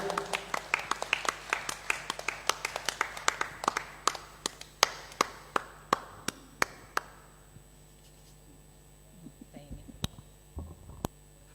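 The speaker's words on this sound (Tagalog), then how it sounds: "Isang masaganang palakpak papuri para sa buhay at makapangyarihan Diyos." Church congregation clapping in praise, a steady run of sharp, fairly close claps that gradually thins and slows into a few scattered claps, with murmured voices underneath.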